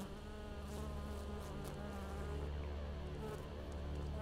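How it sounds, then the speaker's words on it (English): Swarming bees in the zombie video game Dead Rising 3 on Xbox One, a steady droning buzz that stays level and fairly faint throughout, with no speech. "Damn bees."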